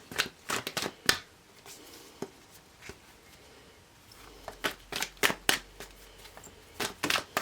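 Tarot and oracle cards being shuffled close up in a quiet room, with bursts of riffling and soft slaps of the deck coming in irregular clusters, pausing briefly before resuming.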